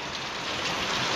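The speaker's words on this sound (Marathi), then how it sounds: "चल चल पाऊस पडता." Steady rain falls in a continuous, dense hiss, close and even, with no voices over it.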